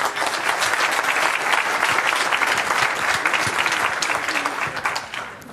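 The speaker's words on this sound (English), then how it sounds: "Let's applaud him." Dense, sustained audience applause at the FOSDEM 2017 open-source conference as a speaker is welcomed, loud and steady clapping that fades out in the last half second.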